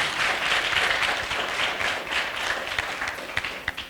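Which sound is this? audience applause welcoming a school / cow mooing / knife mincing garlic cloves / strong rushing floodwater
audience applause welcoming a school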